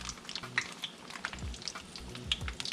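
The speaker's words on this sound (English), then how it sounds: "It's frying." Largemouth bass fillets fry in a hot pan with a steady, close crackling sizzle, broken by frequent sharp pops and spits of oil, with no voices present.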